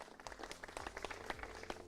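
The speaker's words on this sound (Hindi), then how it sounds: "एक बार जोरदार से तालियां भाई अपने आप के लिए।" Farmers at a village gathering near Varanasi, Uttar Pradesh clap in a scattered, uneven burst of fairly close hand claps, quiet and brief.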